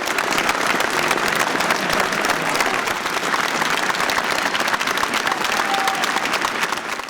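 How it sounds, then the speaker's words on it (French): Thunderous crowd applause fills a memorial tribute of around 7,000 people honouring Charb in Pontoise, dense steady clapping that carries on unbroken and close throughout. "Un chant immédiatement suivi par un tonnerre d'applaudissements pendant plusieurs minutes."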